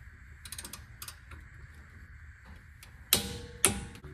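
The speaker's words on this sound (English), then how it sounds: "the ratcheting sounds good" An ANPUDS torque wrench is ratcheted on an F150, with faint light clicking followed by two sharper, louder ratchet clicks near the end, close by and with no talking.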